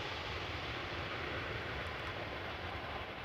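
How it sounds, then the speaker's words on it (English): A steady broadband roar of a British Airways airliner arriving at Amsterdam Schiphol from London Heathrow, distant and constant without change. "British Airways flight 430 arriving from London Heathrow."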